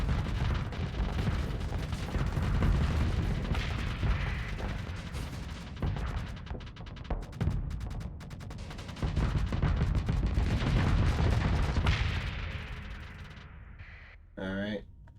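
Two assault chain guns blaze away aboard the Eradicator, a beastly war machine in a video game, with dense sustained rapid fire and rumbling blasts carrying on for most of the stretch, easing off near the end just before a brief voice.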